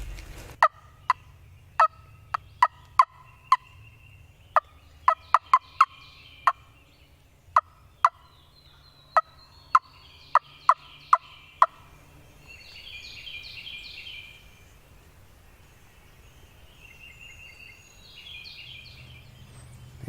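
A wild turkey's sharp, clipped gobbles sound one after another at a distance on Tennessee public land, followed by softer bird chirps in a quiet outdoor setting.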